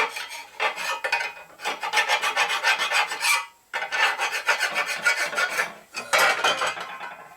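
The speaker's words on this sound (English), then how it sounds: "It gets more of a dull sound as flat." A hand file scrapes in quick rasping strokes over the inner primary cover of a Harley Shovelhead, with two short breaks between runs of close, gritty metal-on-metal strokes and no voices.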